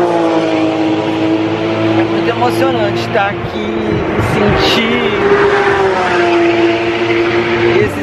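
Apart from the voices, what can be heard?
Ferrari cars driving past at Ferrari museum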